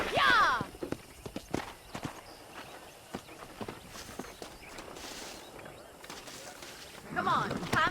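Horse hooves clip-clop at a steady walking rhythm in the Red Dead Redemption video game on Xbox One, moderately close beneath talking and background game sounds, with louder voices at the start and end.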